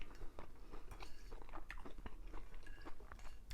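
Close, moist chewing and crunchy bites of food during a mukbang, steady and intimate with no talking.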